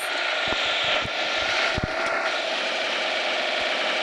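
A plane in the mobile game PUBG Mobile drones overhead as a steady, broad engine roar, with scattered clicks and taps layered over it.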